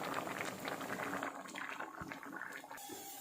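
Rajma curry with coconut simmering and reducing in a pan, a soft continuous bubbling with faint liquid pops, moderately close and steady, with no talking over it.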